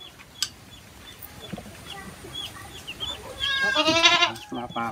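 A hornless mother goat bleats on a farm, a short wavering cry rising near the end over chickens clucking and general barnyard noise; a person talks quietly in the background.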